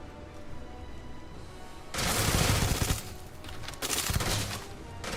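Rapid automatic gunfire in a Starfield firefight aimed at the player, bursting loudly after two seconds of low ambience and continuing in dense, crackling volleys with a brief lull before a second heavy burst.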